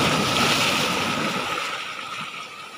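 Big ocean waves rolling onto a rocky shore at low tide, a loud broad rushing wash that slowly fades over a few seconds.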